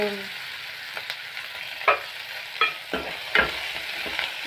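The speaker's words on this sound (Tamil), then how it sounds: "இது வதக்கிட்டு இப்போ வெங்காயத்தை போட்டுக்கலாம்" Onions sautéing in hot oil in a pan for egg sambar, a close, steady sizzle broken by several scraping stirs of a spoon.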